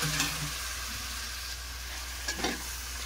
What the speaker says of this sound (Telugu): ఆయిల్ హీట్ అయిందండి. ఇప్పుడు మనం మటన్ వేసేద్దాం.